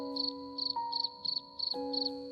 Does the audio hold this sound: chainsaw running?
no